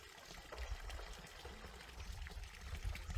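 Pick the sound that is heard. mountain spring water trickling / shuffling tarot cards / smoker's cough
mountain spring water trickling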